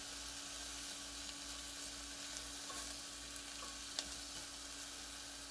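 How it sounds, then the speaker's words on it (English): Diced onion sautés in a pan with a steady, quiet sizzle and faint crackles throughout, with no talking over it. "you can see that the onions have softened up and become translucent"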